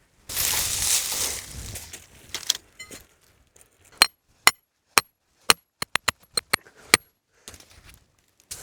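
Sharp metallic strikes of a hammer driving a property pin into leaf-covered ground, following rustling; about a dozen irregular, close, loud blows.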